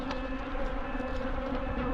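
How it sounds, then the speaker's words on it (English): A bee buzzing steadily and close by during apiary maintenance outdoors, a continuous droning hum with no speech over it. "Just trying to knock you, little bee."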